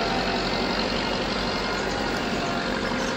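Tractor engine in the video game Farming Simulator 22, a steady, continuous drone running close and alone throughout.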